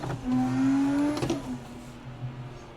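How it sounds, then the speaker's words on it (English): A car engine revs sharply during a manual-transmission rev-match downshift, a quick rising blip that peaks and falls back to a lower idle-like drone, close and loud without talk. "Let's get a couple downshifts real quick."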